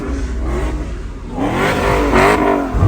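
A 2019 Chevrolet Camaro SS with Texas Speed headers, catless exhaust and an X-pipe revs hard and loud, its deep raspy roar rising sharply in pitch over a rumbling idle, close and without talk.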